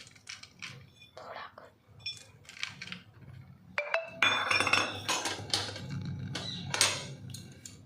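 A spoon stirs a thick jaggery and ghee mixture for sukhdi in a pan, giving irregular scraping and metallic clinks, close and moderately loud, while a voice speaks softly throughout.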